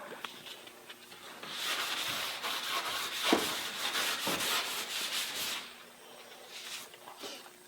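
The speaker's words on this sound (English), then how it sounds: "I just sand this corner off because it's quite sharp." Sandpaper rubs the sharp corner of pine trim in a series of quick, close back-and-forth scratchy strokes, loudest through the middle and easing off toward the end, with no talking.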